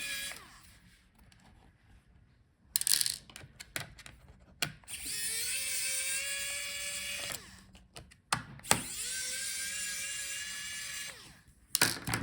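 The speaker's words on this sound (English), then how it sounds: "Unscrew the screws." Screws are backed out of the speaker mounts inside an HP Omnibook 3 15 fn0105dx laptop with a small electric screwdriver, two sustained whirring runs with whining tones and a few clicks between them, close and fairly quiet.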